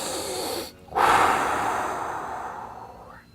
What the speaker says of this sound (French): On va prendre toute une grande respiration.